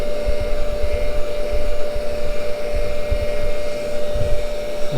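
A machine-shop machine for Harley-Davidson parts work runs steadily after lubrication, a constant loud hum with a strong fixed tone and rumbling low-end fluctuations, no cutting yet and no voices.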